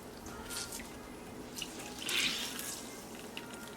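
Beauty blender sponges being squeezed out in a bowl of very hot water, giving soft wet squelches, trickles and drips, quiet and close, with a brief louder splash midway and no talk.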